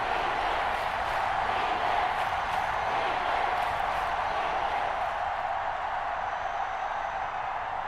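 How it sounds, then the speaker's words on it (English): A steady, dense roar from a stadium crowd in the Madden 21 football video game, holding at a loud, even level throughout with no clear peaks. "That just means this crowd's going to get even louder"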